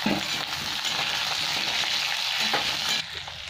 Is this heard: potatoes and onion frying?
yes